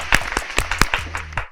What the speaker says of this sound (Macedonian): ја молам екипата позади камериве за еден голем аплауз